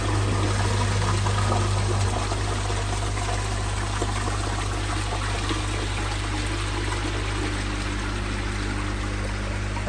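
Air bubbling steadily through an 18mm perforated diffuser ringed around the inside of a Nexus 220 pond filter, a continuous watery trickle and fizz with a low steady hum from the air pump underneath.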